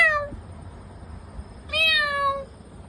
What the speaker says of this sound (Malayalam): പൂച്ച ടോമേറ്റിനെ കാണാല്ലേ?